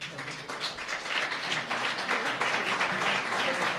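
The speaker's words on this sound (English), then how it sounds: "So let's give them a round of applause." A round of applause for high school students and teachers at an arts event, sustained crowd clapping that swells slightly and holds steady.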